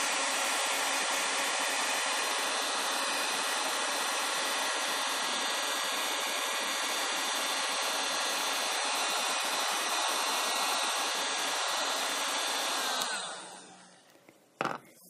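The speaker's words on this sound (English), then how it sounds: "you want to make sure you heat set them with the heat tool" Heat tool blowing hot air steadily to set transparent acrylic colors on a gourd, a loud, continuous whirring roar for about thirteen seconds before it shuts off and fades, followed by a faint click.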